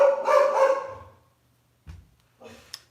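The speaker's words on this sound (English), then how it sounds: "my dog is barking." A dog barks in a quick burst at the start, fairly close and loud, followed by a couple of fainter, brief yips or sounds after a pause, in a home setting.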